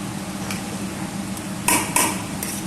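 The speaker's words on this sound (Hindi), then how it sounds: "मसाला जात ऐड कर दिया। अब इसको अच्छे से मिक्स कर देंगे।" A spoon stirs whole masoor dal with added spices in a pot, village style, with a few sharp scraping clinks against the metal over a steady background hiss; no one speaks.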